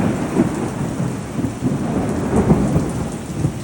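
Severe rain pours down in the desert with rumbling thunder beneath it, a dense, steady hiss of heavy rainfall broken by low rolling booms, with no voices.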